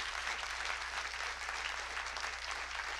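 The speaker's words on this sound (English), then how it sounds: "Round of applause one more time for the fantastic Jedi Survivor team." A large audience at a Star Wars Jedi: Survivor behind-the-scenes celebration event applauds the game's team, a steady, dense wash of clapping and crowd noise holding evenly for several seconds.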